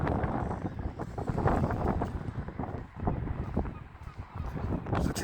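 Strong wind buffets the microphone on the Blackpool seafront, a loud, constant roar with gusty surges, while geese honk in the background.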